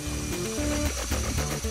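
A small drill bores holes in a toy blaster stock, giving a close, continuous whirring drone whose pitch shifts repeatedly as the bit bites into the plastic.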